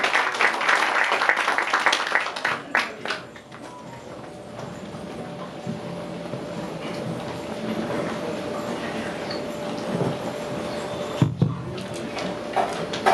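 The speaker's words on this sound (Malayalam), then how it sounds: "നല്ലൊരു കൈയടി കൊടുത്ത് ഇൻവൈറ്റ് ചെയ്യാണ്." Audience applause welcoming actor Saikumar onstage: a burst of clapping for the first few seconds that thins out into a low room murmur with scattered claps and occasional knocks.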